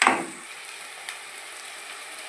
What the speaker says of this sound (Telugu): అల్లం వెల్లుల్లిపాయ పేస్ట్ పచ్చి వాసన పోయేంత వరకు వేయించుకుందాము.